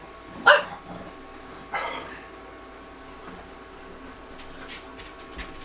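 A female dog gives two short, separate barks a second or so apart, moderately close, against a quiet, low background.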